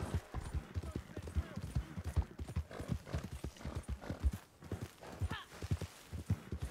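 A horse's hooves clip-clop at a steady rhythm as it is ridden in Red Dead Online, close and continuous, with a brief whinny near the end and quiet game ambience around it.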